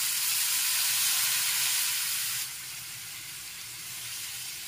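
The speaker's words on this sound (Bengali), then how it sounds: "এখন পুরো মশলাগুলো দিয়ে সাথে সাথে অল্প একটু জল মিশিয়ে নিচ্ছি" Spices sizzling in a pan for Bengali rohu fish kasundi as the spice mix and a little water go in, a loud bright hiss that drops to a softer steady sizzle partway through, close and without talking.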